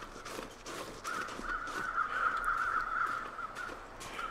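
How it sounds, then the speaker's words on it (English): Crows caw repeatedly in the snowy wilderness of the video game The Long Dark, a steady string of harsh calls at moderate distance over a low ambient wind bed, with no talking. "There's the birds."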